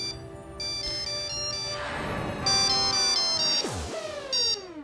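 An electronic phone ringtone plays a repeating melodic pattern, loud and close, with no voices over it.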